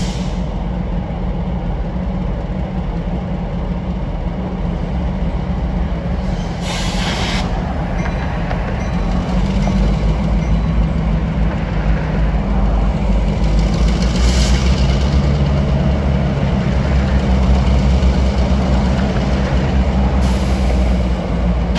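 A Norfolk Southern freight train led by a pair of GP38 locomotives rolls past on the Pittsburgh Line in autumn, a loud continuous rumble and clatter of wheels and cars with occasional brake hiss and no talk.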